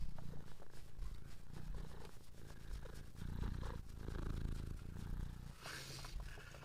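Steady low purring rumbles throughout, close and continuous, with faint rustling and a brief hiss near the end.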